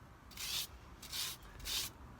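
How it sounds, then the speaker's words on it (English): Wire brush scrubbing loose rust off a Vauxhall Corsa brake, heard as three separate bursts of harsh, raspy scraping at a steady pace, close up and with no talk. "all I'm going to do is just literally wire brush it off, because there is a lot of loose rust on it as well"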